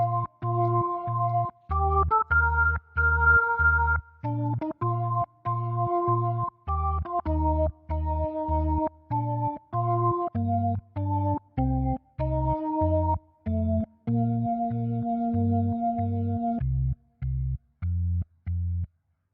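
A simple piano melody plays over steady low bass notes, one note per beat, clean and evenly paced, with brief gaps between phrases.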